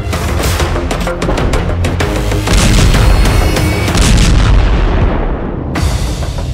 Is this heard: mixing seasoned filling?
no